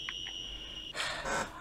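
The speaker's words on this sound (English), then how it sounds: "Better stop that alarm. It's getting annoying." An electronic alarm gives short high-pitched beeps, then a steady tone that is cut off and replaced by a brief noisy rustle.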